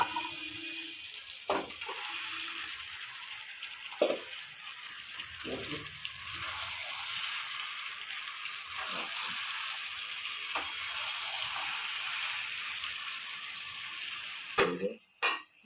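Mutton fries in an oiled pan with a constant hissing sizzle, broken by occasional scraping and knocking as it is stirred, close and moderately loud throughout.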